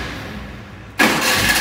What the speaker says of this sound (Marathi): फक्त गाडी चालू कर बस.